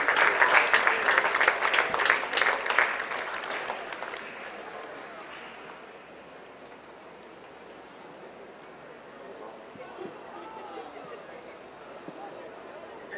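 Crowd applause at a polo club match for a jewelry sponsor, dense clapping for about four seconds that fades into quiet outdoor murmur and distant voices.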